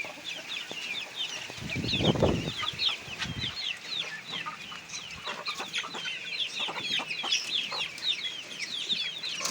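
A young chick, hatched by a pigeon from a hen's egg, cheeps in rapid high chirps throughout, close by, with a brief low rustle or flutter near the start.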